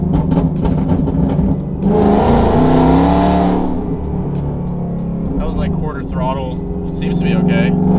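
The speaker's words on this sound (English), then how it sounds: "We're also gonna do some downshifts through the tunnel" Car engine revving and downshifting while driving through a tunnel, with a loud surge of engine roar midway and someone talking over it in the cabin.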